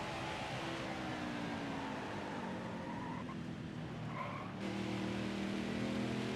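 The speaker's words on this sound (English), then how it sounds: "I'm putting such a small amount of pressure on the brake pedal and it just squeals the tires" A racing truck in NASCAR Heat 5 squeals its tires through a corner under light braking, a steady screech riding over continuous engine roar that swells slightly near the end.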